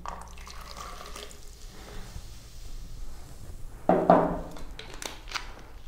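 Cold drink is poured and mixed together, with soft liquid trickling and dripping, a louder splashing pour near the middle, then faint small drips and clinks afterward.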